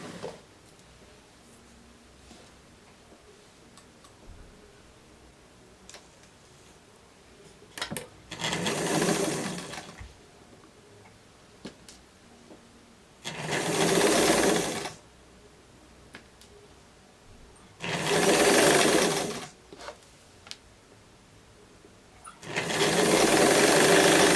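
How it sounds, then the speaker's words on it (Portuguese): A domestic sewing machine stitches around the contour of a summer dress in four loud bursts of a few seconds each, separated by quiet pauses with faint handling noise. "Aí, passa a costura em todo o contorno."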